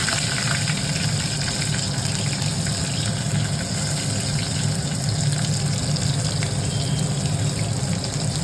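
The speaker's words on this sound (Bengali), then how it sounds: "এবার আমরা এইটাকে গরম তেলে এটা ফ্রাই করতে দিয়ে দিলাম।" Sweet corn frying in hot oil gives a loud, steady, unbroken sizzle that holds at one level the whole time, with no voices.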